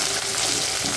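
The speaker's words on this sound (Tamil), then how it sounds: "1 கை சின்ன வெங்காயம், 1 இனிப்பு கருவேப்பிலை கொஞ்சம் நல்லா வதக்கிக்கலாம்" Small shallots and curry leaves sauté in hot oil for a brinjal and drumstick coconut-milk gravy, giving a steady, close, continuous sizzle with no talking.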